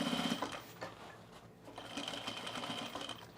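A sewing machine stitches men's cargo shorts in a steady close whir with brief dips in speed, running alone without talk.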